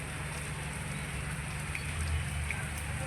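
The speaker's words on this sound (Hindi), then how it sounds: "इतनी प्यारी सी बारिश हो रही है।" Steady rain falls outside a home as an even, continuous hiss with no pauses or voices.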